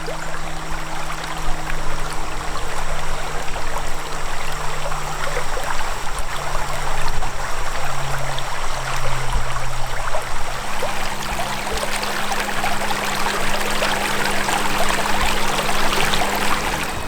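A small river in the Ouachita backcountry of Arkansas rushes steadily nearby in rainy weather, a continuous loud watery hiss and gurgle with no pauses and no voices.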